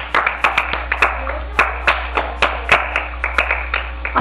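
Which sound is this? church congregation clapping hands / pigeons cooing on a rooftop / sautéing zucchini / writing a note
church congregation clapping hands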